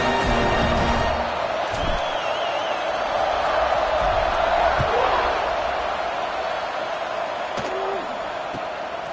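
A large college football stadium crowd in College Football 26 roars in a steady, sustained wash of cheering and whooping, loud throughout with a few sharp knocks on top.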